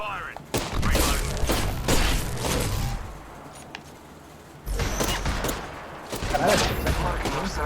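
Rapid bursts of gunfire from a shooter video game crackle in dense volleys, pausing briefly midway before resuming, with voices talking over the shooting.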